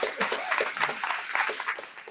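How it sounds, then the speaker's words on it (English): An audience at a full-house poetry reading in an artists' residency claps together, a dense patter of many hands sustained through the moment, moderately near. "Give yourselves a round of applause."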